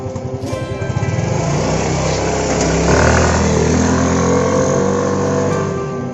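A Yamaha Mio M3 scooter with a freshly serviced CVT revs up during a test ride, its engine rising from a putter to a loud, close, buzzing drone that holds steady and eases off near the end.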